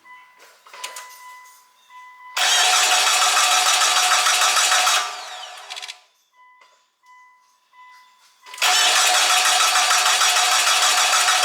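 A 2003 Mitsubishi Galant with a 2.4L 4G64 engine, just fitted with a new timing belt after the old one broke, is started: dashboard chime tones, then two loud sustained bursts of engine noise separated by a quieter pause.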